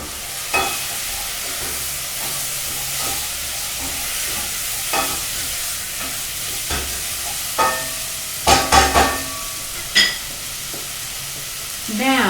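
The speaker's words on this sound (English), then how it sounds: "I'm just going to give this one more stir." Chicken and chickpea curry being stirred in a pan, a soft steady sizzle broken by a run of scraping, clattering utensil strokes against the pan, loudest near the end, with no talk.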